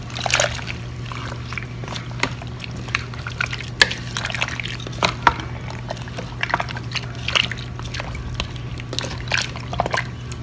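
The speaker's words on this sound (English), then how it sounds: "Give it a stir." A spoon stirs a beef stew with Worcestershire sauce in a Power Quick Pot, producing soft wet sloshing and clinking scrapes in irregular strokes over a steady low appliance hum.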